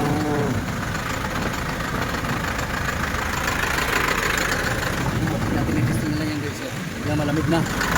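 The air-conditioner compressor of a mini dump truck runs with the engine idling, a steady mechanical hum and rattle continuing throughout beneath people talking.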